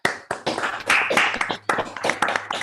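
A small lecture audience claps after an academic talk on celestial mechanics. The clapping is close and uneven, in a few bursts with short gaps between them.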